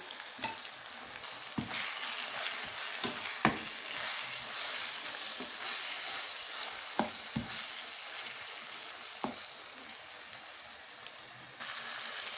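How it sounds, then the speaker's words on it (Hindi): Crushed red chilli with cumin and coriander powder fries in oil in a pan for maash dal, a steady soft sizzle punctuated by a dozen sharp spoon taps and scrapes; fairly quiet, no talking. "बस अब इन मसालों को मिक्स कर लेंगे।"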